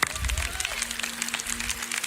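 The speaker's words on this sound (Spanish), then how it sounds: "Un aplauso." Church congregation applause after a preacher's call, a steady dense clatter of many hands clapping at moderate loudness for about two seconds, with a faint voice briefly audible.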